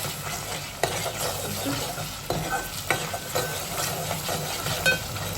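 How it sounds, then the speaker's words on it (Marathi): Street-style Manchurian sauce stirred in a sizzling pan, a spatula scraping and clacking against metal in irregular strokes over a steady frying hiss, close and continuous. "मिक्स करून घ्यायचं. बघा कसं मस्त रेड कलर आले."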